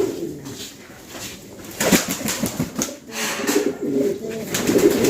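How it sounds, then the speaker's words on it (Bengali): Fancy pigeons on a Bangladeshi farm coo in soft, repeated throaty calls, with a brief flutter of wings midway and overlapping birds nearby. "এই খামারে দেখতেই পাচ্ছেন বিভিন্ন কোয়ালিটির ফ্যান্সি কবুতর"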